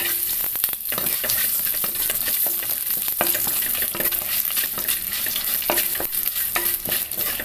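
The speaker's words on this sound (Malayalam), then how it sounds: "വറ്റൽമുളക് ചേർക്കാം. കുറച്ച് കറിവേപ്പിലയും കൂടെ ചേർക്കാം." Dried red chillies and curry leaves sizzle loudly in hot oil for a coconut-milk pulissery, a steady, close crackle broken by sharp clicks and scrapes of stirring.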